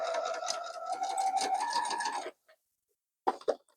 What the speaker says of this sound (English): let's head over to the sewing machine and sew that down.